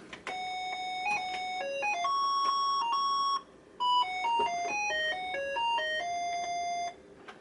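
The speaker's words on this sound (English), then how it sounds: "this definitely is running in CGA with PC sound, not Tandy support" Defender of the Crown game music on a Tandy 1000 EX's PC speaker sounds as thin, square-wave beeping notes in a quick melody, with a brief pause midway, clear and alone.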